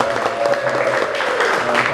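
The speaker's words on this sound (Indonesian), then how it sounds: "Sekali lagi kita beri tepuk tangan yang luar biasa" An audience at a youth outreach gathering gives a short, steady round of applause, fairly close and continuous.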